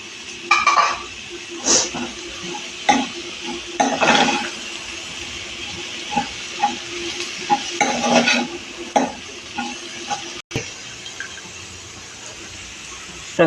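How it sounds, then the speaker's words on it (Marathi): Two capsicums are stir-fried in a pan for veg cutlets: a soft background sizzle broken by repeated bursts of a utensil scraping and stirring against the metal. "नंतर सिमला मिरची घालते."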